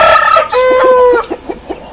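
An Aseel rooster on a farm crows loudly at close range in one drawn-out call, followed by a few short clucks with no voices.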